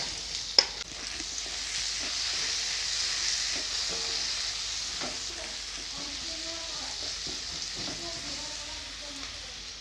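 Chopped onions with bay leaf, dried red chillies and ginger paste frying in oil, a dense continuous sizzle with occasional stirring knocks, a voice talking faintly beneath it.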